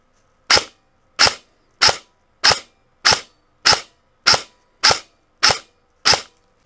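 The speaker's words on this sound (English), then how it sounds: "chrono test and semi-auto, 10 shots to get in a good average, min and max" Ten evenly spaced semi-automatic shots from an airsoft M4 rifle during a chronograph test, each a sharp, loud crack with a quick decay and a steady gap of roughly 0.6 seconds between them, with no talking.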